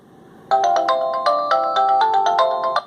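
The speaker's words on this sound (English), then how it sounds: "This will ping my phone." A smartphone ringtone pinged from a Ticwatch 2 smartwatch plays a bright repeating electronic melody, loud and close, starting after a brief quiet moment and continuing without talk.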